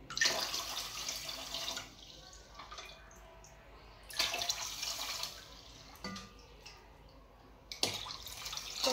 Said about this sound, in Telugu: సో వాటర్ వేసాను